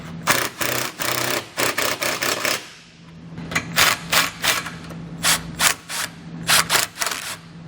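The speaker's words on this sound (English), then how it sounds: "we can come back with a socket and snug all of our hardware down" Socket wrench snugging down hitch bracket bolts on a 2020 Ford Fusion, a quick run of ratcheting clicks, a short pause, then more bursts of clicking up close.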